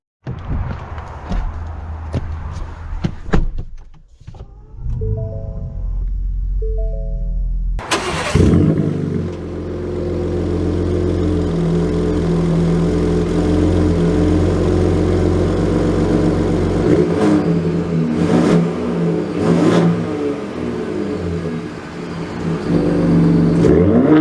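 A 2022 Ford F-150 Raptor pickup engine cranks and catches, then revs up and settles into a steady idle with a few throttle blips, loud and close.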